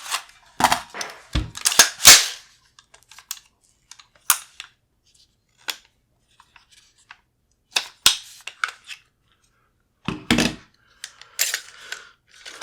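A PWS MK116 MOD 2-M rifle with a long stroke piston being taken apart, giving sharp metallic clicks and clacks in scattered bursts, close and fairly loud, with quiet gaps between.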